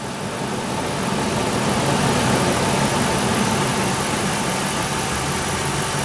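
A car engine idles steadily while warming up, with a constant low rumble and broadband mechanical noise, close up and unchanging throughout, with no voices.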